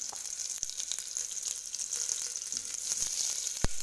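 Onions frying in a pan with green chilies and curry leaves, a steady close sizzle with occasional stirring taps and scrapes, no voices.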